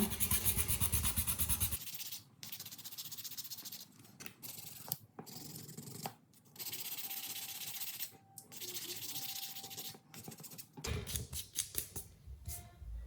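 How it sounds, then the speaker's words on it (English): The coarse side of a nail file scrapes across an acrylic nail in close, rasping strokes, with steady runs of filing broken by brief pauses. No one speaks. "I'm taking my nail file. I want to take the most coarse side, and then all you want to do is scrape up your nail."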